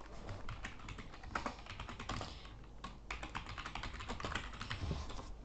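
Fast, steady clicking of keys typed on a computer keyboard, close and fairly quiet, with no voices over it.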